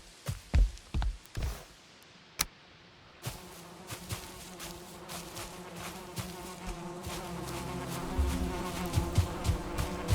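Bees buzz steadily in a close, continuous insect drone around a beehive in the video game Valheim, preceded by several sharp thumps and clicks.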